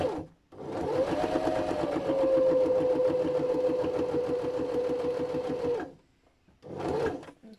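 A sewing machine runs steadily, stitching along the edge of a fabric tote bag for about five seconds with a humming, rattling whir, then stops and starts again briefly after a short pause.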